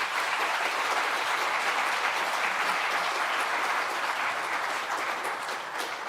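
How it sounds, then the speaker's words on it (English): Loud, dense applause from a conference audience for the speakers of a session at a summit in Barcelona, a continuous roar of many hands clapping that tapers slightly at the end. "I'd love to get another round of applause for all of our speakers from this last session."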